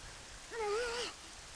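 Soft, steady rain hiss in the swamp of the video game The Legend of Zelda: Majora's Mask, faint and continuous, with a brief wavering tonal cry rising over it midway.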